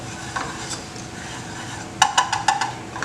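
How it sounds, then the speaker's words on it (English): A roux of a cup of flour and a cup of oil stirred in a pot over high heat, for crawfish étouffée: soft sizzle, then a quick run of rhythmic spoon scrapes against the pot near the end. "You want to make sure you mix it well. You got to constantly stir it."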